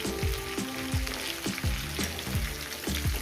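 Snake gourd sizzling in hot oil in a pan, a steady crackling fry punctuated by regular low clinks or stirring taps, close and clear with no talking.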